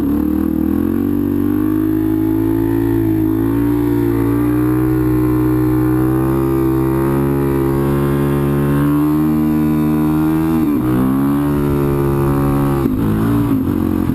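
A sport motorcycle engine revs loud and close during a wheelie, holding a steady high-pitched drone for a long stretch with brief throttle blips and dips near the end.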